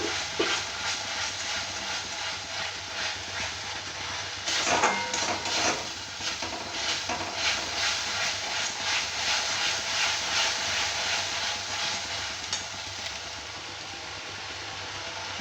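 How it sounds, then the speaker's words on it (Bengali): Spice masala sizzling and being stirred in a pan while cooking chhanar kopta curry, a steady broadband frying hiss throughout with a few louder scraping bursts, no talk. "যতক্ষণ না মশলাটা ভাজা হচ্ছে, কাঁচা গন্ধটা যাচ্ছে, ততক্ষণ অবধি এটা কষিয়ে নিতে হবে।"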